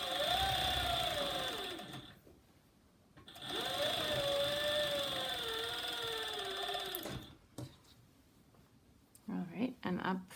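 Serger overlocking the side seams of a classic wrap dress in stable fabric: two long steady motor runs, the second with a pause, close and loud, followed by brief clatter and handling noise.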